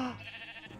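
A sheep in the Minecraft video game gives one brief bleat, fairly close, over a low background hum.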